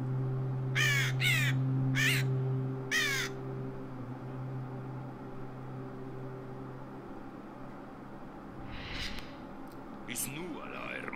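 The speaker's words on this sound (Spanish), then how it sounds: "Dejad que los cuervos de tormenta vuelen una vez más con los vientos de guerra." Storm crows in the Warcraft 3 video game caw in a quick burst of four harsh calls near the start, with fainter caws later over a droning game soundscape.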